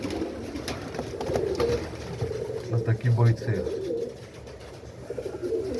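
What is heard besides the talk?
pigeons cooing in a pigeon loft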